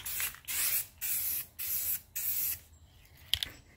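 Dupli-Color aerosol spray paint hisses out in five even bursts of about half a second each, applied in light coats to a Ford Focus hood, close and steady, followed by quiet handling noise and no talking.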